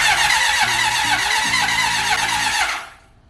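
An old motorcycle engine cranks without catching after its rusty gas tank was cleaned, a steady whirring churn with a low pulsing tone that runs about three seconds, then cuts off into quiet.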